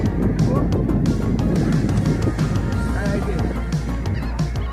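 A large flock of seagulls calls at once, a loud, dense, overlapping chorus of squawks and honking cries that continues without pause.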